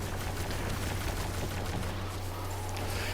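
Auto rifle firing in Destiny 2, a rapid, continuous stream of shots forming a dense, steady rattle at close range, sustained through the whole moment with a low hum underneath.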